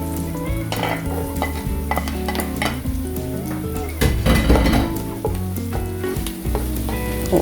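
Onion and garlic sautéing for sopas: a loud, continuous sizzle in a pan, with stirring and occasional clinks of utensils against the pan, under background music.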